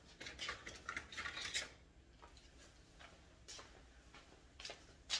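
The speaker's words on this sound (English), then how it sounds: "Let me get something to really scrape this bowl with." A utensil scrapes and clinks around a bowl of brownie batter in a few quiet bursts, busiest at the start and then more scattered, with no one speaking.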